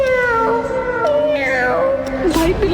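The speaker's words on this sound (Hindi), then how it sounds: "भाई बिल्ली वो फिर आ गई।" A cartoon cat meows loudly and close in drawn-out, wavering cries, several overlapping calls across a few seconds.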